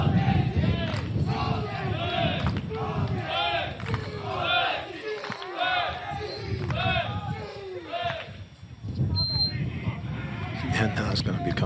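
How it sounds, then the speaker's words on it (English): A crowd at an Illinois versus Ohio State sports final chants rhythmically in repeated bursts, loud and close, with a buzzer and squeaks from the indoor court mixed in. "Hear the chant, all day Zeke."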